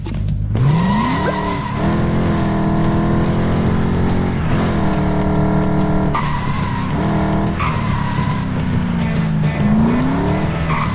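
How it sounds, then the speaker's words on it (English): A car drifting in the video game Lego 2K Drive, loud tire squeals and skids sliding up and down in pitch over a revving engine, several long screeching slides one after another with brief breaks between them. "Learning to drift is way cool."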